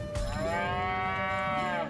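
A cow in the South Park: The Stick of Truth video game lets out one long, drawn-out moo, loud and alone over faint background, after being farted on.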